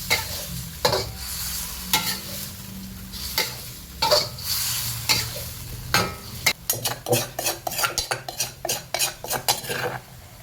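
Home-ground roasted black pepper is stir-fried in a pan with audible sizzling. A utensil clinks and scrapes against the pan, slow at first and then in a quick, regular run of close, sharp strokes, with no talking.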